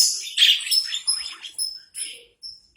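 Pet budgies in a home cage setup give a quick series of bright chirps and tweets, about eight short close calls in under three seconds.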